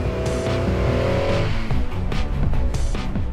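A 4WD vehicle revs hard as it ploughs up a snowy hill on Mt. Skene, the engine loud and close with surging, uneven bursts of acceleration and wheel spin throughout.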